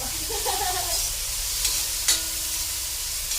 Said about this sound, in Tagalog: Nagluluto tayo.